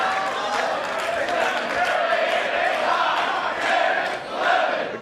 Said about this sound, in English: The crowd a little late on the chant.